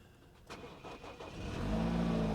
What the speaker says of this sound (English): Finally, a car that starts.